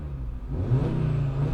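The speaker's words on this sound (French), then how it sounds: "Et niveau sonorité quand tu mets un coup de gaz." Audi RS3 engine blipped under throttle, a mid-pitched revving rise that climbs and holds steadily for a moment, close and loud with no voices over it.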